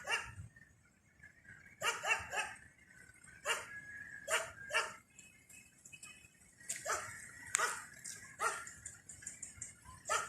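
A dog barks in repeated bursts, some doubled, fairly close and loud over a quiet background while cabinets are being repaired, with short gaps between barks and no talking.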